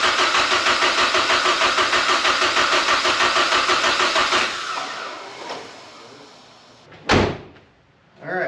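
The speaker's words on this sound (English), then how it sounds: "We're gonna continue cranking because battery still seems like it has a good charge." A Nissan GTI-R under rebuild cranks over on its starter in a long, even rhythmic churn that stops abruptly, followed by a sharp clunk and fainter mechanical knocks.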